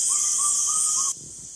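A single bird on a safari in Chitwan, Nepal, gives four soft, evenly spaced hooting notes over a steady high insect-like hiss, then falls quiet.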